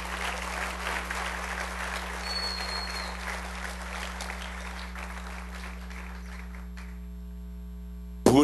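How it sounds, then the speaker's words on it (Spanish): Church congregation applauding loudly for the King, dense sustained clapping over a steady electrical mains hum that continues for several seconds before thinning out, with a brief loud noise at the very end. "Dale un aplauso bien fuerte al Rey."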